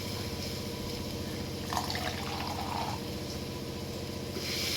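Water runs and splashes steadily into a pot of curry, a continuous liquid pouring sound with a brief louder gush midway, no talking.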